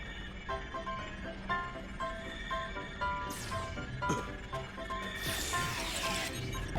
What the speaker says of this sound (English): If you're willing to wave a carrot in front of a hungry, practically indestructible 8-legged horse.